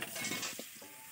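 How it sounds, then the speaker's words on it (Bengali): Salted, turmeric-coated potato pieces hit a hot wok and fry with a brief sizzle and a light scrape of stirring, close and short. "আলুর মধ্যে লবণ অল্প আর হলুদ দিয়ে ভালোভাবে আলুগুলোকে মেখে নিয়ে প্রথমে আলুগুলো কড়াইতে দিয়ে দিচ্ছে।"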